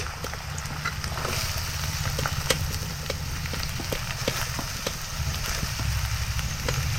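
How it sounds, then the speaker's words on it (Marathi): Finely chopped onion dropped into hot oil with garlic in a Konkan-style cooking pot over a wood-fired stove, a steady close crackling sizzle with scattered sharp pops and spits, no talking. "आता आपल्याला ह्याच्यात कांदा टाकायचा आहे हा बारीक कापलेला"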